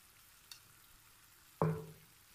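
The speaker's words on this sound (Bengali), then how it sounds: "এখানে আমি এক কাপ পরিমাণ টমেটো সস দিয়ে দিচ্ছি" Tomato sauce is poured into a pan of frying desi-style masala pasta, giving one sudden loud sizzle that fades over about a second after a faint earlier tap.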